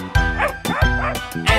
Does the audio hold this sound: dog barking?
yes